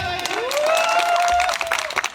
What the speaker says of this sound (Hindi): सर के लिए एक बार जोरदार ताली भाई।